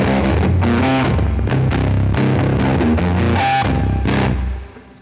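Electric guitar blues riff in drop C tuning played through heavy, nasty distortion, a thick sustained crunchy tone with rhythmic note changes, loud and alone before it rings out and fades at the end.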